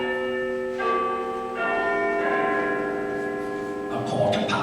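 A church bell chiming the quarter hour, sustained ringing tones struck several times in sequence with long, shimmering decays, clear and fairly loud with little else around it.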